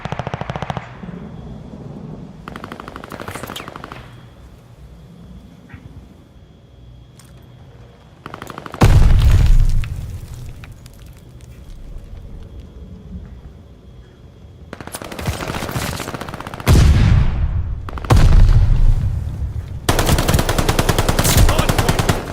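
Bursts of automatic gunfire from hostiles strafing a hard point in a video game, loud sustained rattling volleys broken by quieter stretches, with game radio chatter alongside.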